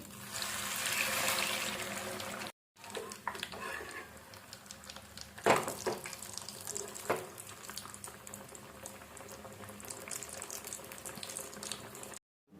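A burger patty drops into hot oil in a home kitchen and fries with a steady hiss, with a sharper crackling burst near the middle and a brief cut in the sound partway through.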